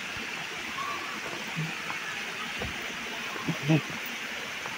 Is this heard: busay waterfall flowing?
yes